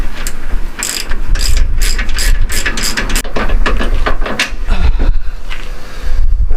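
A ratchet wrench clicks in quick, loud, close bursts while undoing a shock absorber bolt on a Jaguar XKR with aluminium suspension arms, with brief pauses between strokes.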